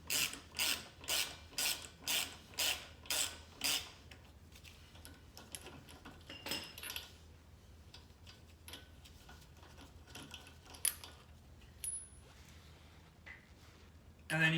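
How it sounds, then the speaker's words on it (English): A ratchet fitted with a 19 mm socket clicks in about nine rapid even strokes loosening car lug nuts up close, then gives way to quieter scattered clicks and handling noises. "let's go ahead and take off my lug nuts"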